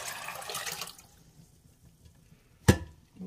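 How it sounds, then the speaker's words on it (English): Five cups of water poured into a cooking pot for a Jamaican oxtail dish: a steady watery rush for about a second, a quiet stretch, then one short, sharp splash. No one speaks. "I have five cups of water. I'm going to throw that in there."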